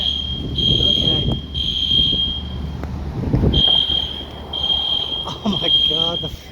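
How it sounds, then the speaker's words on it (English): A fire alarm sounds during an HVAC smoke test in a historic Charleston, South Carolina building. It gives a series of long, shrill beeps with short gaps between them, and voices talk over it. "fire alarm's going off."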